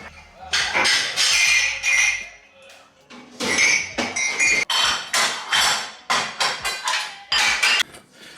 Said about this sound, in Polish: zabieram się za sprzątanie zmywarki i wstawienie tego bałaganu, co jest za mną